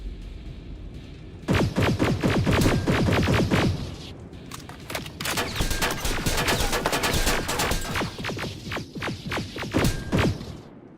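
Gunfire in the shooter game Terminator: Resistance, with loud rapid automatic bursts in two long volleys separated by a short lull, dense and close, with no speech.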